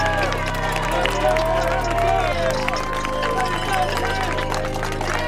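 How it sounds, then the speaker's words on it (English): A crowd applauds a 10U youth football team crowned D2 state champions at an AYF North Carolina trophy presentation. Scattered clapping and cheering mix with voices and crowd hubbub over a steady low background. "Clap it up."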